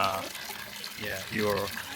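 Hot water pours steadily from a yugama hot water pot at a hot spring bath, a continuous splashing rush heard up close while a person talks over it.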